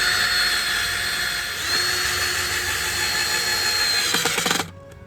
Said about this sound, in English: I'm gonna drill it from the bottom because I want to make sure that the screw gets totally encased in the block.